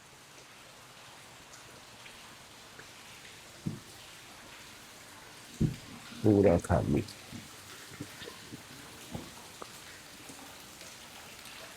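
Steady rain patters in the background at a coffee estate in Coorg, India, with a few louder thumps and brief bursts of speech over it.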